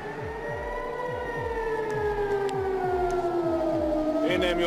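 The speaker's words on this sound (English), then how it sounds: "The air raid sirens going off were really the topic of the day here in Jerusalem." A wailing air raid siren in Jerusalem rises and falls over a steady rhythmic mechanical pulsing, loud and sustained throughout.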